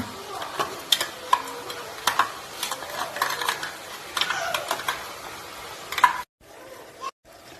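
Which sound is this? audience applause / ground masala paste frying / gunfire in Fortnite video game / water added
ground masala paste frying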